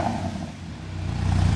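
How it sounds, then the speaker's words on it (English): Porsche Cayman S with an Armytrix valved exhaust, valves open, blipped in light revs; a close, steady engine burble rising slightly toward the end, with no talk over it. "These are just baby revs too."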